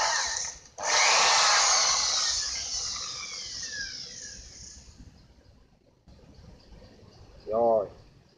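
A power drill bores into a wooden eel trap box, a loud whining grind that slowly winds down over several seconds, with a brief voice near the end.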